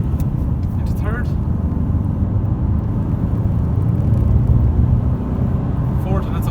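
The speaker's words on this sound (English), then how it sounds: "I'm just going to accelerate from second gear to get us up to 100 kilometers an hour" A 2016 Hyundai Tucson with a 1.7 CRDi diesel accelerates from second into third gear toward 100 km/h. Heard from inside, a continuous low engine and road rumble holds throughout, with brief moments of a voice.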